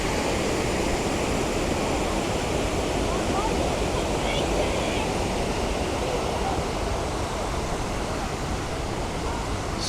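Fruitbat Falls on Cape York, still running with a fair amount of water after some rain; a loud, steady broadband rush of falling water with no break.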